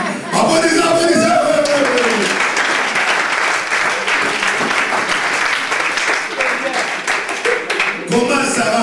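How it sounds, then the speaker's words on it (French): A church congregation breaks into loud, sustained applause that fills the room for several seconds, with a preacher's voice heard briefly at the start and end. "Applaudissez."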